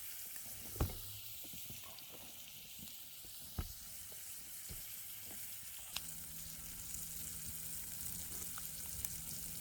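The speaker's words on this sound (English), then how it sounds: "You get that nice, beautiful golden brown color on the outside of the steak." Steak sizzling in a pan over a hobo stove in an Idaho forest, a soft steady frying hiss with a few sharp pops and clicks, fairly quiet, no talk.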